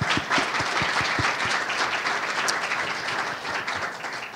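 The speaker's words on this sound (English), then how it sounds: "and if we can give them a round of applause." An audience at a healthcare emergency preparedness panel applauds; a few distinct, close claps open the burst before merging into steady, full clapping that holds to the end.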